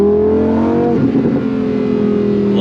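A 2024 Lamborghini Huracan Sterrato V10 idles and burbles with a low exhaust drone, a brief crackling burst of pops in the middle, then settles back to a steady rumble, heard close and without talk.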